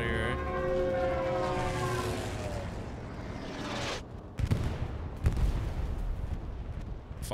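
Explosions in a Battlefield or Warzone shooter, with a heavy rumbling roar that fades out, then sharp booms and cracks, while players talk.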